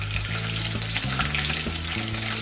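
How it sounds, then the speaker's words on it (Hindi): Paneer pieces frying in hot oil give a loud, close, continuous crackling sizzle over a low steady hum, with no talking. "ऑयल गर्म हो चुका है, अब हम ये पनीर उसमें फ्राई करके लेते हैं।"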